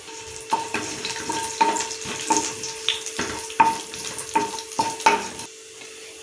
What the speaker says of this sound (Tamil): இப்போ கடுகு உளுந்து பருப்பு சேர்த்துக்கிறேன்.